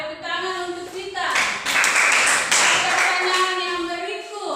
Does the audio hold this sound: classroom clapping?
yes